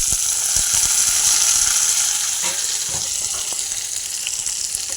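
Curry leaves and green chillies frying in hot oil for a broad bean curry, a continuous loud sizzle with a few soft clinks of stirring, close and steady with no voices.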